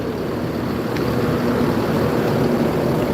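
A bus engine idles at a busy bus terminal in Bukit Surungan, a low steady rumble with constant background din, fairly close and unbroken, no voices.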